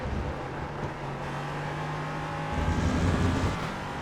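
Race car engines droning steadily in the iRacing sim while the driver follows car 12 down the inside through traffic, with a continuous mid-level roar that swells slightly toward the end.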